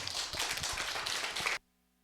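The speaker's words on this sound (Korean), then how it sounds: "큰 환영의 박수 부탁드립니다." Audience applause greeting a professor invited to the podium for a Korean philosophy and humanities forum lecture, a dense burst of clapping lasting about a second and a half that stops abruptly into near silence.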